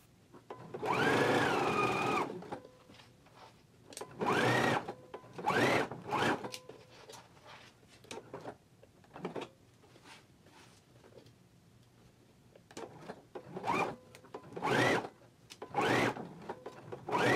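A sewing machine runs in short bursts, a whirring mechanical stitching that starts and stops repeatedly with quiet pauses between runs.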